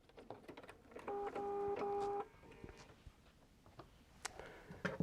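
A sewing machine stitches quilt fabric in a steady mechanical whir for about a second, near and distinct, with quieter handling and ticks around it.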